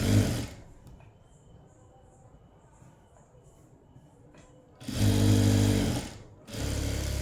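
A sewing machine stitching cloth for a blouse shoulder seam, running in two loud close bursts at the start and again near the end, with a quieter stretch of faint mechanical ticking in between.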